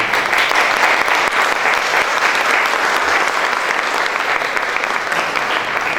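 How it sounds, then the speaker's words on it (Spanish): Applause from an audience at a university architecture book presentation, a dense, continuous wash of many clapping hands that stays loud and even for the whole stretch. "Entonces les pido un aplauso para Julia"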